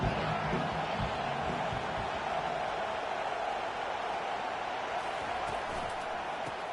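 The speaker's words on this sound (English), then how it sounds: "This crowd knows when to bring it." College football stadium crowd roars steadily, a dense, loud wash of cheering and noise that holds throughout without letting up.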